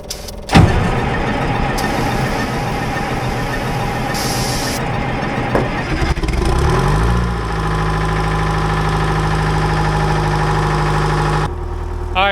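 A UTV engine cranks and catches on a cold morning, then settles into a loud, steady idle close by, with a brief surge partway through and a continuous mechanical drone.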